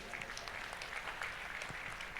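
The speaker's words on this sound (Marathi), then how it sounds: "वैष्णवीचा जोरात टाळ्या" An audience claps after a devotional Devi bhajan performance, a dense and steady round of applause that lasts throughout at a moderate distance.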